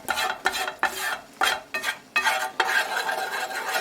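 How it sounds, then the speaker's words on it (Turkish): Popcorn being stirred into a sauce in a pan, close scraping and swishing strokes that repeat about every half second, with no talking. "Görüyorsunuz ben yine karıştırdım."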